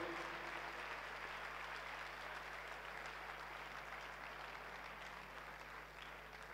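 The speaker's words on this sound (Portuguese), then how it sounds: "Vamos aplaudir Jesus." Sustained applause from a church congregation at a deliverance service in Mozambique, dense clapping lasting several seconds, even and continuous over a low steady hum.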